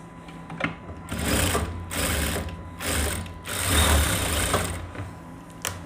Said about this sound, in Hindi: इनको बिल्कुल बराबर करते हुए इसकी सिलाई कर लेनी है